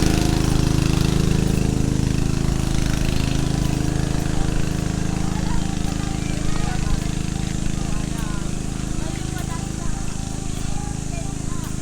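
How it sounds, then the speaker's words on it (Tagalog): A generator runs steadily near natural pools in Tanay, Rizal, giving a constant droning hum with a broad noisy wash that holds evenly from start to finish. "Generator."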